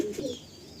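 Baby Madrasi pigeons in a loft give a brief soft coo, low and close, with a faint chirp fading into quiet background hum.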